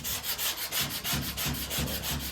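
Sanding block rubbed along a body line of a car panel, a brisk rhythmic back-and-forth scratching of about ten strokes, close and steady with no talking.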